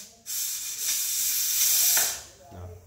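Japanese 6-litre gas pressure cooker venting steam: a loud, steady hiss runs almost the whole time, swelling and easing briefly, with a faint click near the end.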